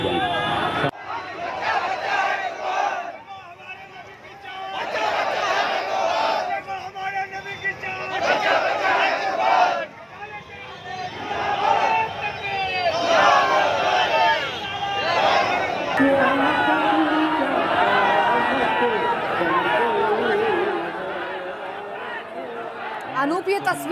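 A large crowd packed together in Bareilly during the Covid pandemic at a religious gathering, a dense hubbub of many voices with shouting and chanting surges, loud and close, with a person speaking over it.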